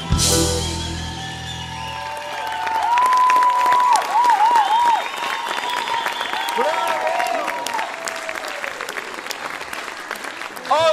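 Concert audience applauding after a duet: loud sustained clapping and some cheering that swells midway, mixed with a fading musical tail at the start and a few whistles.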